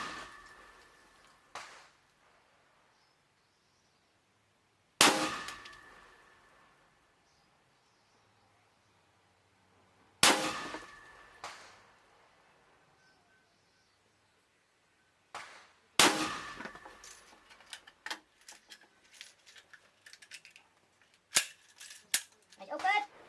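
Norinco AK-47 rifle fired in a bench-rest accuracy test, with five loud sharp shots spaced several seconds apart, each trailing a short echo, and some clatter and movement between later rounds.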